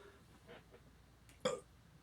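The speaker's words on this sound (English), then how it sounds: "why am I burping so much?" A single short, throaty burp breaks a quiet background near the end, brief and fairly close, preceded by faint indistinct murmurs.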